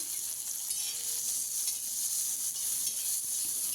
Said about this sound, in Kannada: ಒಂದು ದೊಡ್ಡ ಗಾತ್ರದ ಉಳ್ಳಾಗಡ್ಡೆ ನೋಡಿರಿ ಇದನ್ನು ಸರಿಯಾಗಿ ಫ್ರೈ ಮಾಡ್ಕೊಳ್ಳೋಣ ರೀ